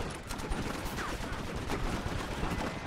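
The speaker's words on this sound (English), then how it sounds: "is there a Gatling gun on this?" A Gatling gun in a Red Dead western game fires a continuous rapid rattle of shots, dense and unbroken across the whole stretch, with no talk.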